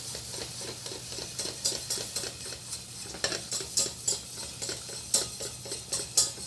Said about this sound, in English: I'm going to add in my flour and I'm going to whisk that up.